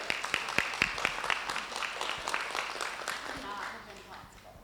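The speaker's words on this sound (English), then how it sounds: "big round of applause for Zoe" Meeting-hall audience at a plenary session clapping in a steady round of applause, moderately loud and fading toward the end, with a voice cheering over it.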